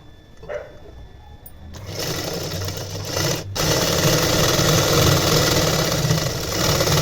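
A sewing machine stitches a long blouse. Its steady, fast mechanical whirr starts after a short quiet lead-in, breaks off once, then resumes louder and holds a constant rhythm at close range with no talking.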